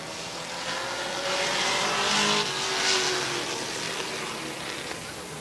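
Race cars roaring around Midvale Speedway during a heat race, a loud sustained engine drone that swells as the cars pass close, with no talk over it.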